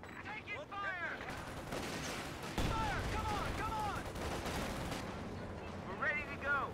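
Tank gun and battlefield fire in Company of Heroes, a heavy booming shot among continuous rattling gunfire and explosions, with voices shouting over the din.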